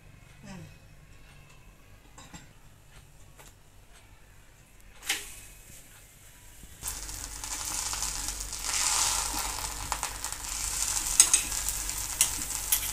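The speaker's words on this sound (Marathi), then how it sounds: "आता तव्यावरती आपण ना थोडंसं तूप घालूया" Ghee on a hot tawa while puran poli cooks: quiet scraping and handling at first, then a sudden, steady close sizzle that rises and holds to the end, with faint background voice.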